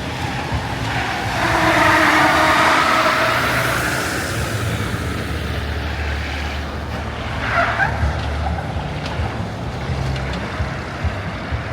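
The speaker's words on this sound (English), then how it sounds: "Look at this thing that this Jeep is about to come through." A Jeep drives through an obstacle course at an auto show, a steady engine rumble with a louder surge early on, amid continuous indoor crowd noise.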